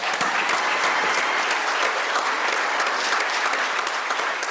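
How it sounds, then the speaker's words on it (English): A school board meeting audience applauds honored sixth-grade math students, a loud, dense and sustained round of clapping from many hands, steady from start to finish with no talk. "Let's give them a huge round of applause."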